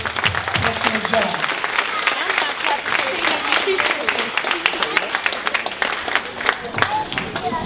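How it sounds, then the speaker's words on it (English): A church congregation applauds the staff with loud, lively clapping, sharp individual claps standing out from the crowd, and voices call out beneath it throughout. "I need everyone in here to stand up to give this staff a nice round of applause"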